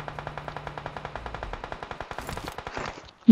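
Rapid automatic gunfire in a video game, a fast steady burst of loud close shots that runs for about two and a half seconds before cutting off, with no talking over it.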